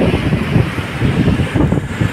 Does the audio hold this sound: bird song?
no